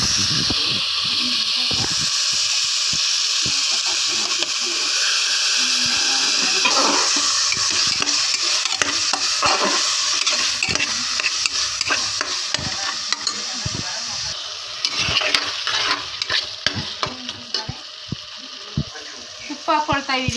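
Khichdi with spices and tomato being stirred and fried in a pan, with a steady close sizzle and repeated scraping strokes running throughout.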